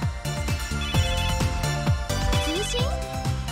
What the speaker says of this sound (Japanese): これ、私のエヌギアの着信音です。